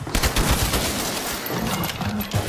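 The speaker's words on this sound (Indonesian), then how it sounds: "segera melesatkan tembakan ke arah kerumunan Taliban" Bursts of gunfire aimed at a crowd of Taliban fighters crackle in rapid, dense volleys, loud and close, with a roughly continuous rattle and a couple of sharper cracks near the end and no talking.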